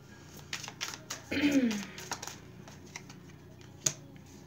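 Tarot cards are shuffled and tapped by hand in a series of soft, quick riffles and clicks with one longer flutter near the middle, heard close and quiet.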